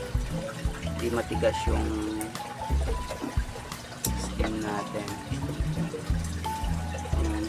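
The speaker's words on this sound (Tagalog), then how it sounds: "Yan, mag-add tayo ng tubig kasi para" Water poured into a steamed egg and spirulina fish food mixture for balloon mollies, a trickling, splashing pour heard in bursts under someone talking.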